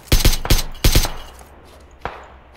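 Gunfire exchange in PUBG Lite, several loud, close bursts of automatic fire in quick succession followed by a single sharper shot after a short pause.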